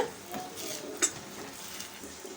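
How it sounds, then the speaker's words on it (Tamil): Ground parboiled rice batter is stirred into a tempering in a pan with a few soft scraping strokes, a faint sizzle beneath and one brief utensil clink, quiet and close. "மிக்ஸ் பண்ணி விட்டுக்கலாம் தாளித்ததோடு சேர்த்து அப்படியே கலந்துக்கோங்க"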